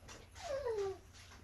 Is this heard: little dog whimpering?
yes